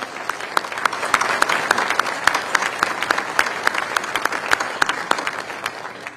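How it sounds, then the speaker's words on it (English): A moderate crowd claps steadily at a Patriot Day remembrance breakfast, with sharp individual claps standing out over the dense applause. "Can we give them all a big round of applause?"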